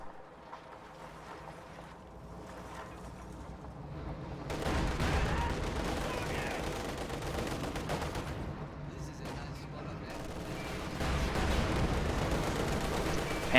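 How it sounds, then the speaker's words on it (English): Mortar fire in a World War II strategy video game pounds infantry, with heavy rumbling blasts building in two loud waves amid the din of battle, over quieter stretches of background sound. "mortar continues pounding away at Price's infantry"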